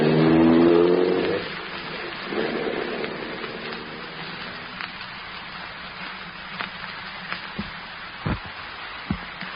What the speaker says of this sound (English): switched on the ignition, slammed the car into gear, and cut into the darkness